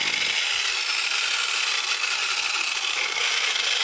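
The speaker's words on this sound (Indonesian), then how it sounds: "kedua sisi yang disatukan ini kita rapikan menggunakan jigsaw, kemudian diamplas lagi" A jigsaw trims the epoxy-glued edges of a modern machete sheath, its motor running as a loud, continuous high buzzing drone from start to finish.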